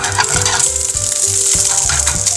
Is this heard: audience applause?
no